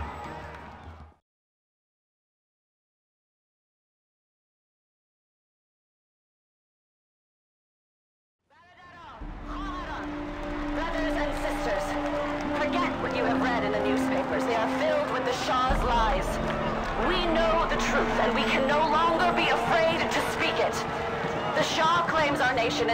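A crowd of protesters fills a street in the video game 1979 Revolution: Black Friday, a dense, steady hubbub of many voices and movement that swells in after a stretch of silence and stays loud to the end.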